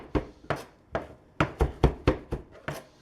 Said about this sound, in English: You're slamming the knife quite fast and quite consistently against a solid item here.